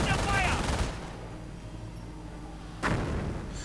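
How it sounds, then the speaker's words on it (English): Mortar fire in a video game: two heavy blasts, one at the start and one near the end, each with a broad rumbling tail over steady background noise. "More mortar fire."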